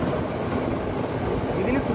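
A train rolls along the Galle to Colombo coastal railway in Sri Lanka, heard from a second-class carriage as a steady, close, continuous rumble and rattle with no break.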